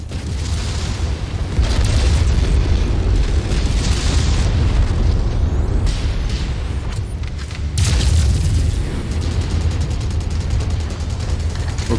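A mech blowing up in a MechWarrior-style combat game, heard as a loud, sustained rumbling boom with crackling bursts that swells twice, around two and eight seconds, over continuous battle noise.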